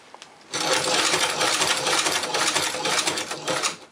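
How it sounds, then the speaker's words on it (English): A shoe patcher leather sewing machine stitches backwards in a continuous fast mechanical chatter for about three and a half seconds, loud and close, with a rattling clatter and no talk. "So now you want to backstitch it. When you turn it around and sew backwards"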